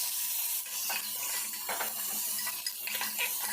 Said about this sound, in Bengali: এটাকে আমি ভালোভাবে একটু ভেজে নিচ্ছি